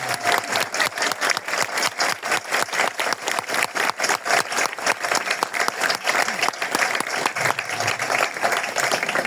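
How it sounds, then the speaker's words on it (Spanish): A congregation at a Catholic parish claps during a priest's installation Mass, sustained dense applause filling the room, steady and fairly loud, with faint crowd murmur underneath. "Vamos a darle un aplauso"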